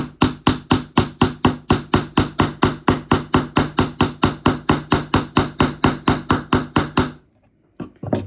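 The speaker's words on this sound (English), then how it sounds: "I think I was hammering it too hard." Rapid, evenly spaced hammer blows, about four per second, ring loudly up close while blackout blind fixings are tapped into place in a Honda Jazz, then stop abruptly, leaving a brief faint knock.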